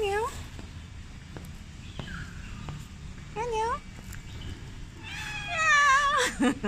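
A cute cat meows several times outdoors in wet weather, with short rising-falling calls standing out in the middle and a louder, more insistent run of meows near the end, while a person talks quietly nearby.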